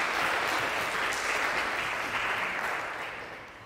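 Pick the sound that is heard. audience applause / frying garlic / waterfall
audience applause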